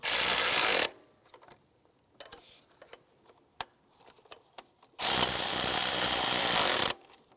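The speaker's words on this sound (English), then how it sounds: "And snug those down." A power tool snugs down the nuts on an EGR valve heat shield of a 2006-2011 Cadillac DTS, running in two loud bursts of about a second and two seconds, with small clicks and handling noises between them.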